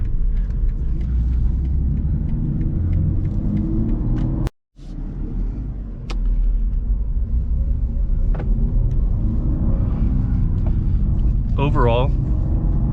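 A 2023 BMW M3 with a six-speed manual transmission driving and turning left: a steady, loud low engine and road rumble runs throughout, with a brief dropout partway through, while someone talks over it.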